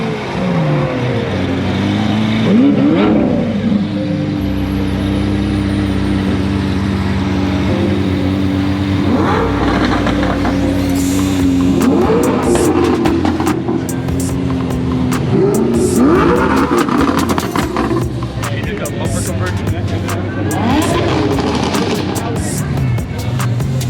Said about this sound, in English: Look at this Aventador. Oh, there we go. He's taking off.